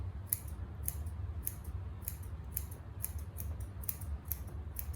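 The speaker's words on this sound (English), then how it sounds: "Try to address things with the thinning shears first and then come back with the straight shears afterwards." Thinning shears trim a schnauzer's fur on the front leg and chest, making about a dozen crisp, quiet snips in a steady rhythm over a low background hum.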